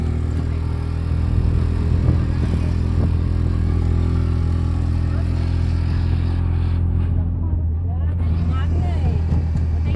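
An auto rickshaw ride on a family trip to Dwarka: a loud, continuous low engine drone with rattling and road rumble from inside the moving vehicle, and a voice speaking faintly over it.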